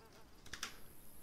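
A human voice mimics a mosquito's whine, a thin high buzzing held steadily for over a second, fairly quiet and close, with no other talk.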